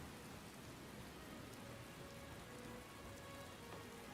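Quiet, continuous rain pattering on surfaces in a video game, a soft uniform wash of drops that holds steady throughout.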